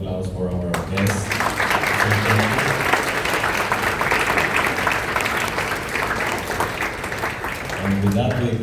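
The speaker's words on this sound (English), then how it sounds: "I want a round of applause for our guests." An audience at a bamboo building conference gives sustained applause for the guests, a dense, even wash of clapping filling most of the stretch, with talking audible at the start and end.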